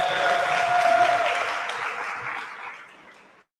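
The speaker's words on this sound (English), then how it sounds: "Give Nonkuleko a round of applause for having done that" Applause from a workshop audience in Soweto, a steady burst of clapping from a room of people that fades out gradually over a few seconds.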